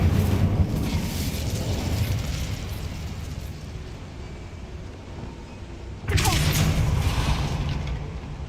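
Incendio fire spell in Hogwarts Legacy: a steady roaring, rumbling burst of flame that holds for several seconds, dips slightly, then surges again with a fresh loud whoosh near the end.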